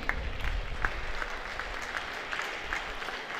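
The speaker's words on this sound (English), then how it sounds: "applause for our president." Audience at a national scientific conference applauding its president, with scattered, fairly quiet claps over a low murmur that thins toward the end.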